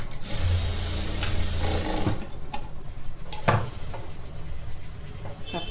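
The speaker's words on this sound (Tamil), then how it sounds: "டாட் ஸ்டிச் பண்ணுங்க." An electric sewing machine stitches a blouse with a steady, close whirring hum and rapid ticking needle beat, pausing briefly at moments, while someone speaks over it.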